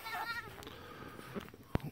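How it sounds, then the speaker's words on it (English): Two young goats kept in a pen with chickens on a small farm let out brief bleats, with a short sharp call near the end amid low background noise. "we had added two little goats to our little collection of animals."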